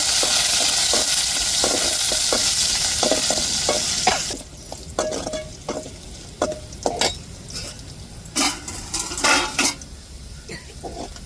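Spices and onions temper in hot oil in a pan, a strong sizzle for about four seconds that then drops away, followed by a run of close metallic scrapes and clinks from a spoon against the pot.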